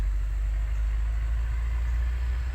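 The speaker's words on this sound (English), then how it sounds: "it was like a big tractor spraying or something" A big tractor spraying as it drives along a road, heard as a steady low engine rumble with a broad hiss over it, loud and constant for the whole stretch.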